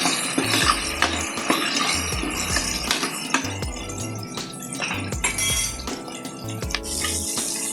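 A pot of onions being stirred while they sauté for one-pot sambar rice, with a spoon clinking and scraping against the pot in an uneven rhythm over a steady sizzle. The sound is close and clear, and no one speaks.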